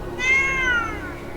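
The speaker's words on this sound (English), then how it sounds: "Oh, nice cat!" A cat meowing in the Star Trek Online video game, a single drawn-out, clear meow over a steady low background hum, fairly loud and alone.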